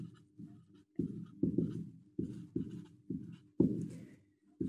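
Marker or chalk strokes on a board during a Class 9–10 general math lesson on real numbers, coming in repeated short bursts roughly every half second to second, close and fairly clear with no talking.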